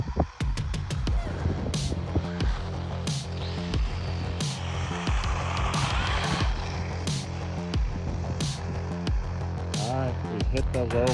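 An HBX 16890A RC car with a 2845 5900KV motor on 2S LiPo batteries tears around a baseball field, a steady loud electric whine with pulsing surges and rattles throughout.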